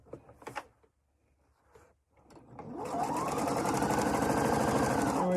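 A sewing machine stitches a quarter-inch quilt seam, quilt-as-you-go style, starting after a few soft handling noises and then running in a steady, loud, continuous whir of rapid needle strokes.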